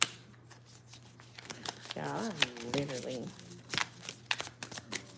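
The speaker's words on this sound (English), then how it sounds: "over here struggling to shuffle these cards" Tarot cards being shuffled by hand, giving a series of quick papery riffles and flicks close by while someone talks over them.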